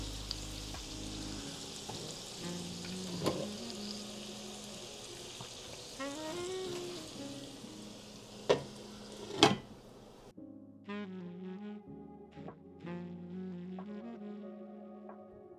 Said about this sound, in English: And so now we're just going to let this simmer.